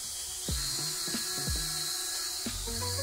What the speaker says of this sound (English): This man's holding wood and drilling it with the other hand.